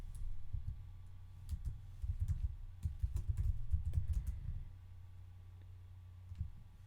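Someone types an SQL query on a computer keyboard, the quiet keystrokes coming in short uneven bursts and clusters, close and soft, with brief pauses between runs and nobody speaking.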